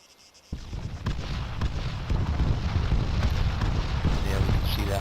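Artillery fire in the video game Arma 3, a sudden heavy boom followed by a continuous loud rumbling barrage of explosions, with no talk.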